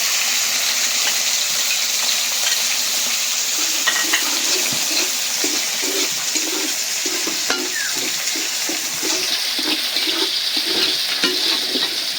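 Garlic frying in hot oil in a pan alongside fish, a steady close sizzle with occasional clinks and scrapes of stirring.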